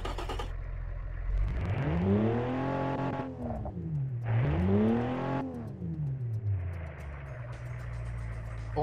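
Game-simulated car engine of roughly 354 horsepower with a single muffler, revved up and down twice in long smooth sweeps, rising to a strained howl before dropping back to a rumbling idle, heard close and alone.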